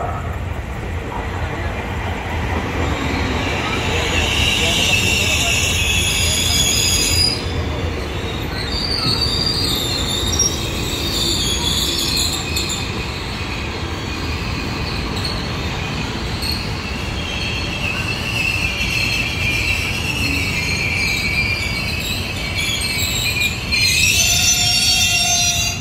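A Tokyu 8000 KRL Commuter Line train pulls into Bojong Gede station during rush hour, a loud, steady rumble of rolling wagons with sustained high wheel squeal that builds and holds close by.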